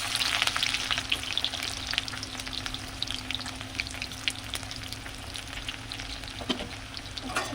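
Hot oil sizzling and crackling steadily in a kadai, a dense continuous frying hiss with scattered sharp pops at close range.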